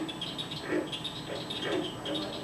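A frog calls with faint, low croaks that repeat roughly once a second against a quiet background.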